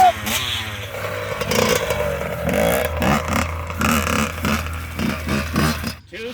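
A two-stroke dirt bike engine revs up close and loud, its buzzing, raspy note rising and falling through several throttle blips before cutting off abruptly at the end.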